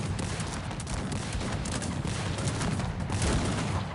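Dense, continuous crackle of massed musket volleys in Cossacks 3, loud and sustained with no pauses, like a battle raging nearby.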